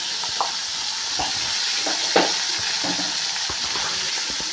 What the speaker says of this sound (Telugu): ఇప్పుడు ఇవన్నీ ఒకసారి కలుపుకుందాం